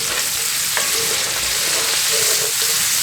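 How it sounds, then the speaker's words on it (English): Butter sizzling in a pot with sautéed vegetables for braised oxtail stew, a continuous hissing fry with a few light stirring scrapes and clinks, heard alone without voices. "I like to put a little bit of butter in mine."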